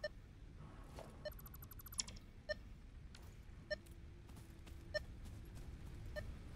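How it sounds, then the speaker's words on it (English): Scanner beeping faintly in a regular pattern of short, evenly spaced electronic beeps about a second apart, with a brief rapid chirping burst early on, over a low ambient background. "I can hear your scanner beeping for something."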